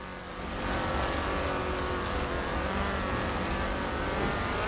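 A Ford Escort RS1800 rally car's engine in Forza Horizon 4 drones steadily and loudly at high revs, a dense continuous roar that swells in the first second and holds without talk.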